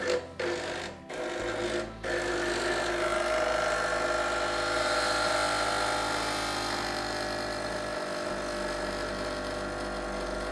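An espresso machine pulls a shot for a long black, giving a steady loud mechanical pump hum with a low drone that runs continuously through the whole stretch after a few brief clicks at the start.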